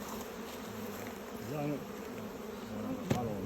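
A steady, dense buzzing of many honeybees around hives close by, continuous throughout with slight swells in pitch and loudness.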